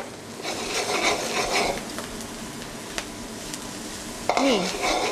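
Chopped onion sizzling in a hot pan in a restaurant kitchen, a steady broadband fry with a few utensil clicks and stirs, ending with a faint metallic scrape.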